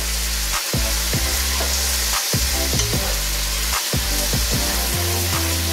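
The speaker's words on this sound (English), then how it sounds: "So let's stir that up" Shrimp stir fry with vegetables in a hot pan: a loud continuous sizzle broken by repeated scraping stirs, with a tonal hum beneath and a few sharp pauses between strokes.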